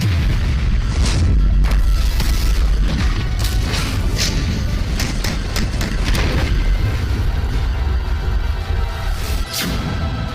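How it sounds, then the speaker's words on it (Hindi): Israeli airstrikes on Hamas: heavy explosions rumble in a loud, continuous low boom, with sharp bursts and cracks breaking through at irregular moments across the whole stretch. "इजराइल ने हमास पर फिर किए ताबड़तोड़ हवाई हमले।"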